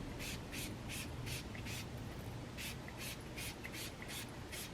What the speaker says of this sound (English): I got some oil-free wig shine